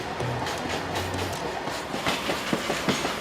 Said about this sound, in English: These heavy trains, with a limited field of vision, can still do serious damage.